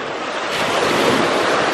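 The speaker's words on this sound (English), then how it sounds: "Look how clear the waves are" Ocean waves wash continuously onto a beach at St. Petersburg, Florida, a dense, steady roar mixed with wind buffeting the microphone, loud and close, with no voices.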